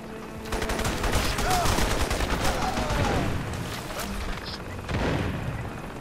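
Pistol shots ring out in the video game Crysis, a run of sharp gunfire reports over dense in-game combat noise and explosions, loud and close, with a voice talking over the action.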